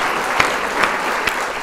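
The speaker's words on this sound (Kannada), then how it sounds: "ಅಲ್ಲಿ ಒಂದು ಜೋರಾದ ಚಪ್ಪಾಳೆ MS ಸರ್ ಅವರಿಗೆ" A loud, continuous wash of audience clapping at a Kannada spoof singing-contest show, cheering a judge, with a few sharper claps punctuating the steady roar.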